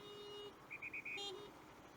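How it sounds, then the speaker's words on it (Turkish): Faint car horns toot in short bursts on a narrow road, a few quick beeps followed by a longer honk, somewhat distant in quiet surroundings. "Sinirlendiler. Kornaya basıyorlar."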